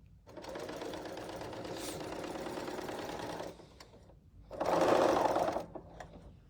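A serger sewing machine stitches quilt fabric in two runs. The first is a long steady whir, and after a short pause a louder burst follows with no talking over it.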